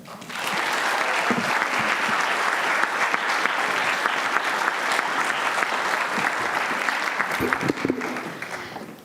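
Sustained audience applause fills a hall as a speaker is welcomed to the podium, steady dense clapping from many hands lasting several seconds before tapering near the end.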